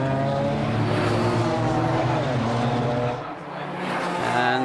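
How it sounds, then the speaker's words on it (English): Race cars running a circuit during a Baltic championship round in Riga, a loud, continuous engine roar with layered harmonic whine that dips briefly near the end before swelling again. "Urbonavicius in front, Graf just behind him, and Graf is faster, that is certain, 3 laps to go"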